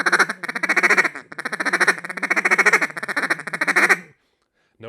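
A duck call is blown with a fluttering tongue, giving rapid, close, loud quacking chatter in bursts broken by brief pauses over about four seconds, then falling silent.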